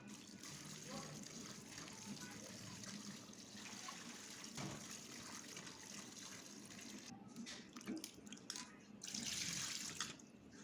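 Tap water running into a sink while papaya is washed, a steady soft gush with faint splashing and handling, brief louder spurts near the end, fairly quiet overall.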